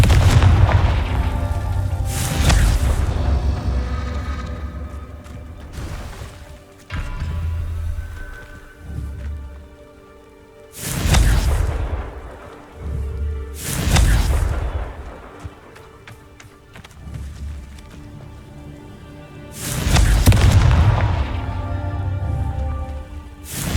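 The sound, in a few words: Confringo spell explosions in video game Hogwarts Legacy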